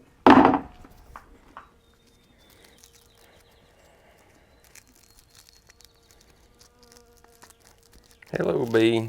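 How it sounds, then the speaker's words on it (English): Honey bees from a home apiary buzz near a swarm trap, a faint, thin drone running through a quiet stretch, framed by louder bursts of handling noise at the start and end. "These are bees from my home apiary."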